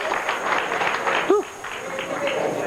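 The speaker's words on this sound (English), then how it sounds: "You can hear the crowd." At a 1991 men's bowling final, a crowd murmurs and cheers in a broad, continuous hubbub, moderately loud, beneath a commentator talking.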